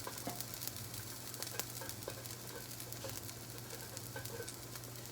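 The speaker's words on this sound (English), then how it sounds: "This is how we're gonna fry. Okay, there's our 2 patties." Potato cake patties fry in an oiled skillet, giving a soft, steady sizzle with frequent small crackles and pops, close and low in level, with no talking.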